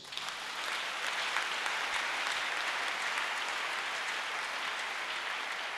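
A church congregation applauds together, a dense, steady wash of clapping that swells in within the first half second and holds at an even, fairly loud level throughout, with no speech over it.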